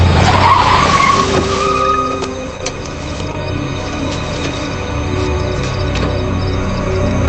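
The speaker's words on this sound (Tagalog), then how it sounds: "Nagulat ang magkakaibigan nang biglang huminto ang sasakyan." A car skids hard to a sudden stop on a mountain shortcut road with its two rear tires blown, giving a loud broadband tire scrape with a squeal at the start that settles into a steady rumbling noise.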